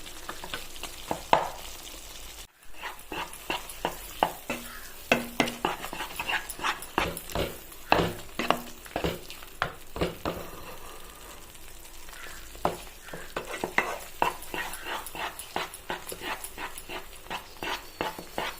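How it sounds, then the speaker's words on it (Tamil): Steady scraping stir strokes move through a rice dish with cashews in a hot pan, with a soft sizzle underneath and rhythmic clinks of the spoon against metal, close and continuous without talk. "நல்லா ஒரு பதினஞ்சு நிமிஷம் இது மாதிரி கை விடாமல் கலரி விடுங்க"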